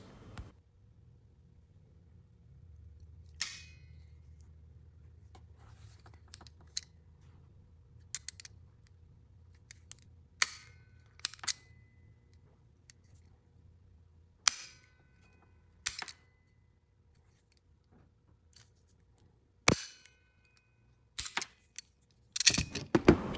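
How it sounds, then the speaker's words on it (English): Brass ferrules being crimped onto an air hose with hand crimping pliers, a series of sharp, isolated metallic clicks and snaps spaced irregularly over quiet handling noise, with a quick cluster of clicks at the end. "So I ordered these crimping pliers a long time ago and these brass ferrules, and I mean, this works pretty doggone slick."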